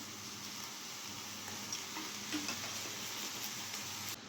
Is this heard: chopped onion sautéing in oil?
yes